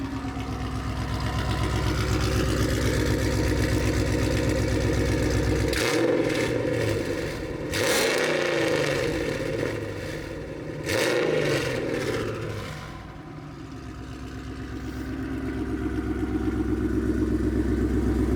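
A Dodge Charger Scat Pack 392 with a Corsa full exhaust idles with a loud, steady rumble, then blips its throttle in two sharp revs near the middle before settling back to a deep idle.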